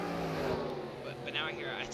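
Race cars roar past on the oval at South Boston in a sim racing game, a steady engine drone with rising whines of passing cars under continuous commentary.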